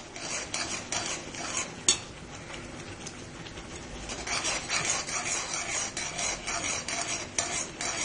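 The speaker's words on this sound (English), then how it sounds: "keep on stirring it continuously" Almond halwa with cardamom powder is stirred and scraped around a pan, a close, steady rasping of repeated strokes with a soft sizzle underneath and no talking.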